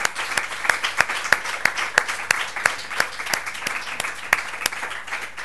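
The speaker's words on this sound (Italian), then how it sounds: "io direi di fare un grande applauso a Marco Sant'Agata." Applause from an audience after a literary talk, steady moderate clapping with distinct individual hand claps popping out at a regular pace throughout.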